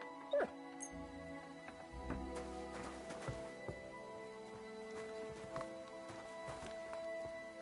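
A dog whimpers in Kingdom Come Deliverance 2 amid busy game sounds, with hoof clip-clops and small yips scattered over a low murmur across several seconds.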